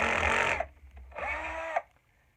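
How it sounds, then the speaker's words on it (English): A drill boring into an epoxy handle wedge in two bursts: a loud, buzzing whine for about half a second, a short pause, then a second sustained run that stops abruptly. "So, I'm just going to do some drilling."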